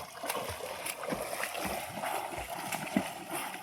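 Water splashes and gurgles in quick irregular bursts at a rest stop on a Shri Shraddha Saburi Palkhi pilgrimage to Shirdi, where cool water is found, with steady broadband noise and a few faint voices in the background.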